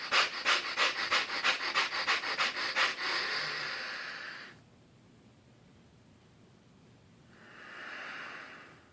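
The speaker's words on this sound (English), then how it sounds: "rapid breathing through your nose, inhaling and exhaling" A person breathes rapidly through the nose, quick rhythmic inhales and exhales in a run of about a dozen close sniffs, then one longer breath, a pause of near silence, and a final soft exhale.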